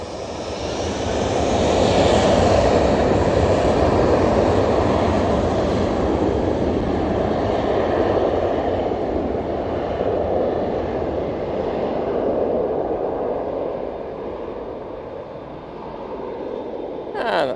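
Turkish Airlines jet departing Manchester Airport for Istanbul, a loud sustained engine roar that swells early, then slowly fades and lingers as the aircraft climbs away, with a voice talking over it.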